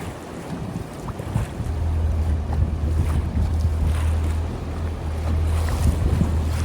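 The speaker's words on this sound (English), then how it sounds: "Just watch the waves." Ocean waves breaking against offshore rocks along the Sydney coast in winter, a steady roaring wash of surf with low rumble and wind buffeting, continuous and fairly loud with no talking.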